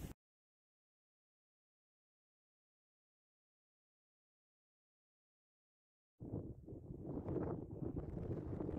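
Wind buffets the microphone at the Guérande salt marshes, a rough, loud rumbling gust that starts abruptly after a long stretch of silence and keeps blowing steadily.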